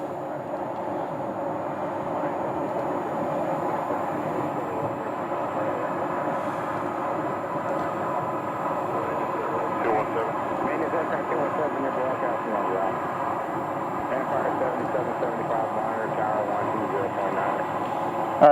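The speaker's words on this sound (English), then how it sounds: "that one is a maintenance taxi flight." An airliner on a maintenance taxi at Phoenix Sky Harbor Airport, Terminal 4, gives off a steady, droning engine rumble with a thin high whine that holds throughout, heard from a distance under occasional talk.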